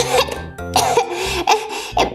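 A child's repeated coughing fits, close and loud, with harsh throaty bursts over a tonal musical background.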